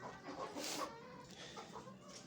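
A hen sitting on eggs clucks softly in a low, breathy murmur, faint and close, alone without any talking.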